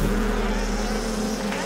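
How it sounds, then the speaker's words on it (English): Bees hurrying among flowers gathering pollen make a steady, continuous buzzing drone at moderate loudness throughout, with no talk over it. "The bees hurry from flower to flower to see who can gather the most pollen."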